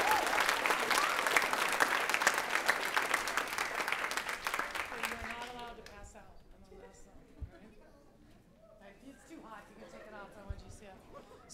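Applause at a high school spring chorale concert: a dense burst of clapping from the audience fills the first half, then fades to scattered claps, murmurs and talk.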